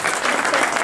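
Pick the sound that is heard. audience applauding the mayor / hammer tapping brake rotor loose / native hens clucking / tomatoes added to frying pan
audience applauding the mayor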